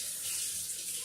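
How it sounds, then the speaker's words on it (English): Hands are washed under a running tap at a kitchen sink, a brief, quiet, steady splash of water. "Let me wash my hands"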